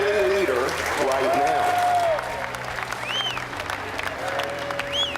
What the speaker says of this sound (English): Round of applause for our hourly leader